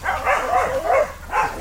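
Several dogs bark excitedly at the Born Free Pet Shelter, in short bursts of yips and barks that come in quick repeated waves, fairly close and loud, with no talk over them.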